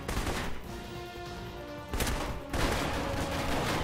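Gunfire from an enemy's strange weapon in the Alpha Protocol shooter, heard as loud rapid bursts separated by short gaps, with a metallic ringing tone through the first burst.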